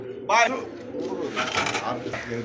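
Pigeons coo at a pigeon farm, their soft calls close by and mixed in with people talking nearby.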